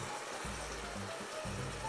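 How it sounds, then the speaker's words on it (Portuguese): Heavy morning rain heard from inside a kitchen, a steady dense hiss running throughout with a low, intermittent hum pulsing beneath it; no one speaks. "escutando o barulho dessa chuvarada"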